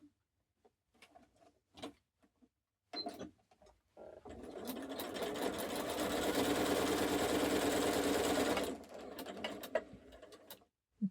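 A sewing machine stitches a diagonal seam across quilt binding, starting after a few scattered taps and clicks, then running steadily and loudly for about five seconds before stopping.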